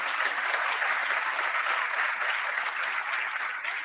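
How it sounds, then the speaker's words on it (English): Steady, dense applause from an audience at a state History Day award ceremony honoring teachers, sustained evenly without pause and heard at moderate distance. "give a round of applause to all of the History Day teachers"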